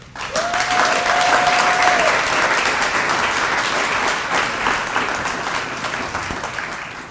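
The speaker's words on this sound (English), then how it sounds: "Please give a round of applause for our keynote speaker, Dr. Anton Bazell." Sustained applause from a large audience at a graduation celebration, greeting a keynote speaker, loud and steady throughout, with a brief tone near the start.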